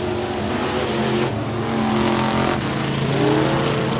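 Street stock race cars at Sabine Speedway roar loudly and continuously as a heat race begins, engines revving over a dense, close rumble with no speech.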